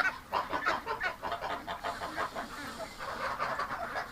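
Geese honk and chatter in a steady rapid run of calls while sheltering indoors from the rain, close by and moderately loud.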